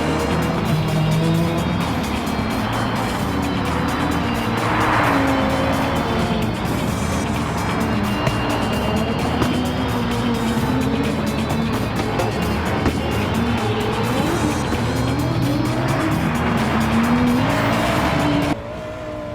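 A 1980s Audi Quattro race car revs hard on snow, engine note climbing and falling through gear changes with tyre noise, loud and continuous before cutting off abruptly near the end.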